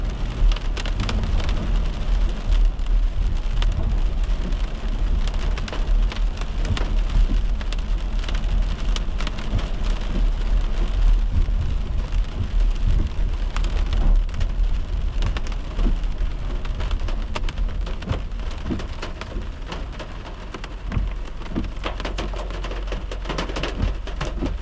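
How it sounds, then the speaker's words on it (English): Rain pours onto a car roof beneath a tree during an early-morning December drive in New York City, a dense, loud, unbroken patter and drumming with a low rumble underneath and no talk. "Because we're under the tree and the water is falling on the roof, it sounds as if the rain is falling really hard."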